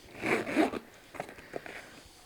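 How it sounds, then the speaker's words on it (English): A zipper pocket running nearly the full width of a handbag is zipped, two quick close rasping pulls followed by a few softer, fainter zip strokes, with no talking. "you've got a zipper pocket that goes across nearly the full width of the bag and down to the bottom"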